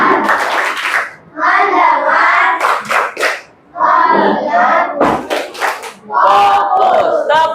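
A classroom of fifth-grade children chants together and claps in sharp synchronized bursts during a rhythmic clapping routine, loud and close, with pauses between the chanted phrases.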